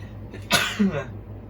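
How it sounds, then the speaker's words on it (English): A single sharp sneeze bursts out in quiet, followed by a brief voiced exhale. "Sneeze."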